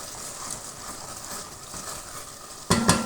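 Spices frying in a pan with a constant close sizzle, then a couple of sharp utensil knocks against the pan near the end.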